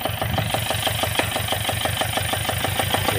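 The engine of a roller coaster ride machine runs after a burnt-wiring repair, a loud steady, rhythmic chugging idle with evenly spaced pulses close up and no talking over it.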